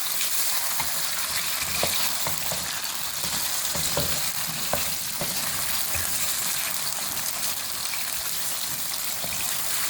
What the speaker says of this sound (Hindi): अब इसमें हम चिकन शामिल करेंगे। फ्राई करेंगे हल्का सा।